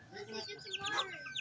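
Chicken clucking on a chicken farm, several short clucks scattered through the moment with children's voices talking close by over the top.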